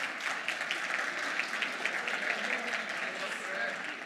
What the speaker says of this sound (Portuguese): Salva de palmas para o Botafoguense.